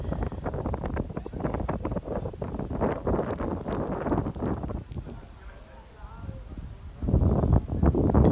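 Steady wind buffeting the microphone at a pyramid in Egypt, a low rumbling roar that gusts and eases, with some clattering in the background.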